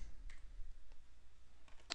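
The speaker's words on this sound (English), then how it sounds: "I'm just double clicking these" A computer mouse clicks several times, small sharp ticks spaced apart with a quick double click near the end, close and quiet over faint room hum.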